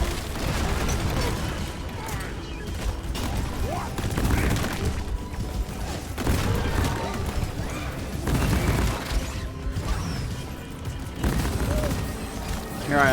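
An Engineer's sentry turret and mines in Deep Rock Galactic firing nonstop at swarming bugs, a dense rattle of rapid gunfire with bursts and booms going on throughout, under someone talking.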